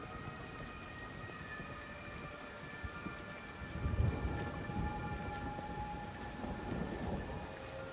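Quiet, steady rainfall hisses throughout in the game Everybody's Gone to the Rapture, with a low rumble swelling midway like distant thunder.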